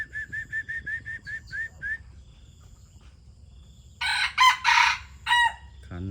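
Rooster crowing close by, a loud series of harsh drawn-out crows following a run of rhythmic high whistle-like calls, set against low rural background noise.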